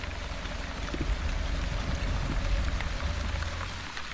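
Steady rainfall in the video game The Wandering Village, a dense, even hiss of drops spread across the whole moment with a low rumble underneath and no voices.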